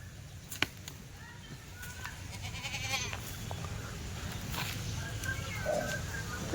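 Kathiawari goats bleat faintly amid a noisy outdoor background, with a few scattered clicks and knocks.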